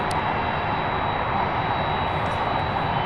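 Loud, steady roar of aircraft jet engines at Louisville International Airport and the UPS Worldport, a broadband rumble holding close and constant throughout with no talk.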